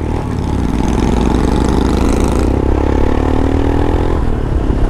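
A 2021 Royal Enfield Himalayan with a 411cc single-cylinder engine runs loud and close, a steady thumping drone whose pitch shifts partway through as the revs change, with no talking.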